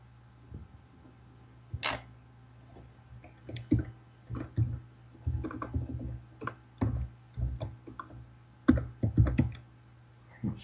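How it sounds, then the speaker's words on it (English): Quick bursts of typing on a computer keyboard, with clustered key clicks arriving in uneven flurries and short pauses between them, close and fairly quiet, with no talking. "Such excited typing."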